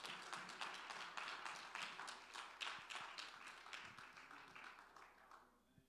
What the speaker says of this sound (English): give the Lord a good hand clap of praise if you would